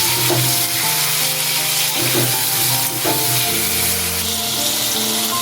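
Chopped tomato and potatoes sizzle loudly in a pan, a continuous close crackle broken by repeated stirring scrapes and clacks, over faint background music.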